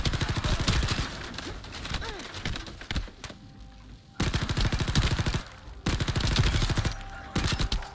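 A gun in the Elden Ring video game fires in rapid bursts of loud, sharp repeated shots, with two short pauses before the fire resumes at full intensity.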